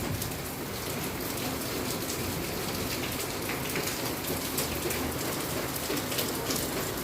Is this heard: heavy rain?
yes